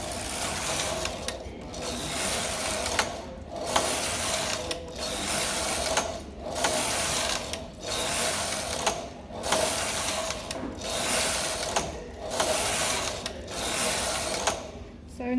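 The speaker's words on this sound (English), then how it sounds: "I'm going to knit some rows." A knitting machine knits rows as the carriage is pushed back and forth, each pass a rolling mechanical clatter and whir separated by short pauses, repeating regularly and loud up close, without talk.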